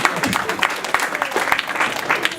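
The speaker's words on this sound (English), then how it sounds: "Yes, you can clap." A formal event audience claps in a brief, lively burst of dense, uneven applause, fairly close and loud, with faint voices mixed in.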